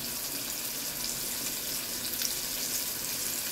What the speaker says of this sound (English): I'm just going to leave these few pieces to cook